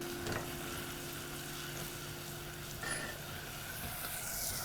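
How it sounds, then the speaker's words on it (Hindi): Masala paste frying in oil in a pan for a peanut satay sauce gives a soft, steady sizzle with occasional stirring scrapes, quiet and close, with no voices. "धीरे धीरे से पेस्ट को भूनना है"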